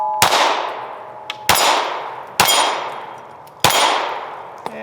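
Four well-spaced shots from a Glock 43x pistol ring off steel targets, each a sharp crack followed by a long metallic clang that decays before the next hit, with faint pings between.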